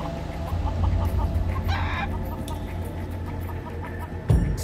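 Roosters clucking and crowing amid a cockfight in the Sleeping Dogs video game, a steady bed of game ambience beneath with a brief burst of fowl calls in the middle and a sharp thump near the end.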